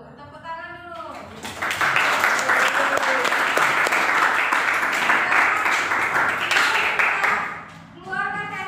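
A class group bursts into sustained applause lasting several seconds, loud and close, with voices briefly heard before and after the clapping.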